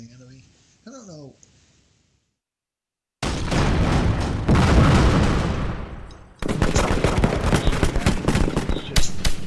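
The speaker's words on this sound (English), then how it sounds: "sound like artillery going off" Artillery fire in the Rise of Prussia strategy game: heavy, rumbling cannon volleys with crackling bursts, loud and continuous, after a brief spoken voice and a short silence.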